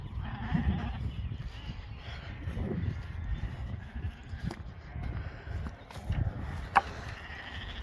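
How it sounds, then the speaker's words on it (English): A 44-kilo lamb from a shedding-sheep flock bleats for its mother ewe in a paddock after early weaning. The calls are faint and distant, heard under low rumbling wind and field noise. "This is my 44 kilo lamb, and he's looking for his mum."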